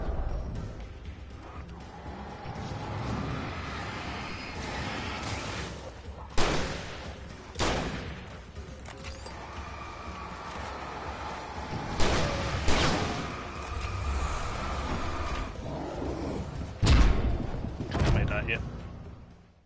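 Shotgun blasts in a video game, several heavy, well-spaced shots booming over a constant noisy backdrop of action, with a voice talking between them.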